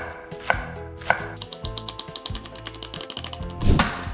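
A knife finely chops green onion on a cutting board in a steady run of close, crisp taps, with a few heavier thuds near the start and a louder knock near the end, no voices.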